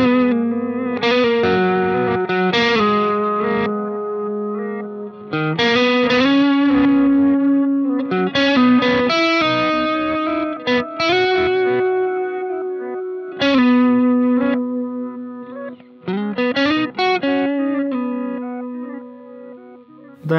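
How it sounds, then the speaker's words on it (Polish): Electric guitar melody played in phrases, each note trailing into soft repeating echoes and a spacious ambient wash; no voices. "Powiedzmy, że chcemy zagrać jakąś melodię na gitarze."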